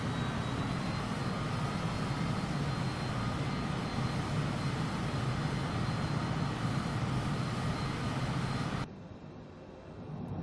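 An F-15 jet engine roars steadily in flight in Microsoft Flight Simulator, a loud broad rumble that cuts off abruptly near the end, leaving a faint hush.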